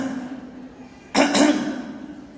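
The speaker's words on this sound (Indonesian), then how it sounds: "Cuman kalau yang umum dengan dehem-dehem." A short, close throat clearing in two quick bursts, breaking a quiet, humming room and then fading back to near silence.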